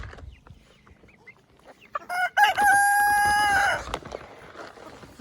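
A free-range rooster gives one loud, close crow lasting about two seconds, set between quieter farmyard clucking and soft background sounds.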